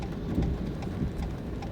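Steady rain falls in a continuous close wash of noise, with soft patters and low rumbling throughout, no voices.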